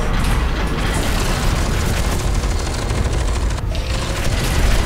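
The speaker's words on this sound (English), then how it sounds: "Oh, the powered armor. It's so loud." Powered armor in F.E.A.R. 2 blasting away in heavy, continuous fire, a loud dense barrage of booming bursts and mechanical clatter that barely lets up across the whole stretch.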